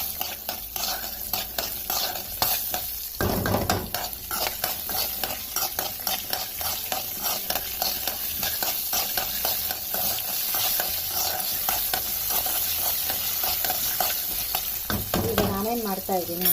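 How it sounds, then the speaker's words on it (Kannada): Tempering spluttering in a pan for radish chutney, a continuous close sizzle with rapid crackling pops and intermittent metal stirring and scraping against the pan throughout. "ಈಗ ಸಿಡಿಯತ್ತೆ, ಸ್ವಲ್ಪ ನಿಧಾನಕ್ಕೆ ಇದು ಮಾಡ್ಕೋಬೇಕಾಗುತ್ತೆ ನಾವು."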